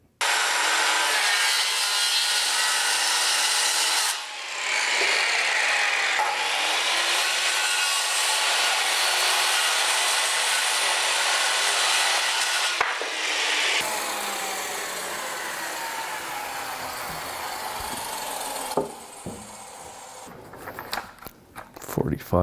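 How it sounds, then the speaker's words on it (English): A saw cuts 45-degree angles into a wooden roof rafter, making a loud, continuous rasping whine that runs for long stretches with a few brief breaks and changes in pitch. It ends in a scatter of clatter. "I'm going to cut a 45-degree angle going this way, reverse the saw, cut a 45-degree angle that way"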